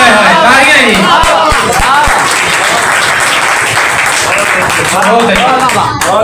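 Loud, steady crowd applause fills a poetry mushaira in Bhalwal, Pakistan, with audience voices calling out over the clapping throughout.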